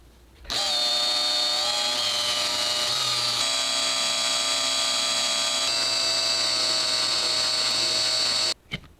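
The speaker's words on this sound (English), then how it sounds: "we have a power drill here. And this is a 1/4 inch drill bit" A power drill with a 1/4 inch bit drills a hole in the top of a tumbler, whining steadily and loudly for about eight seconds, its pitch wavering slightly, then cuts off abruptly.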